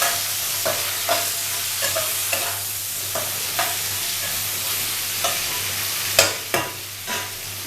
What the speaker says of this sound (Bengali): এটা আমি ঢাকা দিয়ে একটু ভাজা করব, মানে একদম ফুল ফ্লেমেই করব